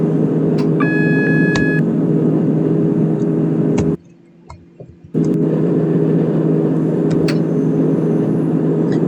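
Engine drone of a Class 158 diesel multiple unit accelerating in the OpenBVE train simulator, a steady loud rumble with a few beeps, briefly cutting out for about a second midway before resuming.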